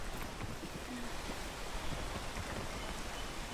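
Steady rain falling in the video game Peak, a dense even hiss of drops that runs unbroken through the short stretch with no voices over it.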